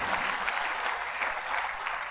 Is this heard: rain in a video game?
no